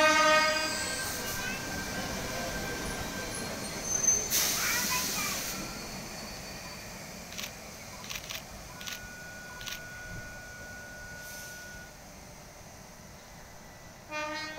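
A train at Concord West station in Sydney rumbles along the platform and sounds a loud horn toot early on, with softer horn blasts and rail noise continuing as it pulls away. Voices are faintly audible in the background.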